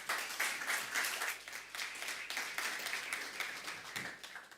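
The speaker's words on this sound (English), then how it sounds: "Please give them a huge round of applause." A conference audience at the India Global Forum Young Leaders Meet gives panelists a sustained round of applause, a steady wash of many hands clapping, moderately distant and without speech.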